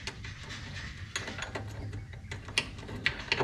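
Quick ratchet clicks in short bursts as a mud motor mount is tightened down, close and crisp over a low background hum.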